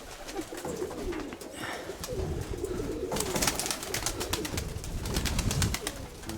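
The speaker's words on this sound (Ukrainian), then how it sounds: "Пищить вже там голубя." Pigeons cooing nearby, soft repeated calls with fluttering and rustling amid light background noise, fairly faint overall.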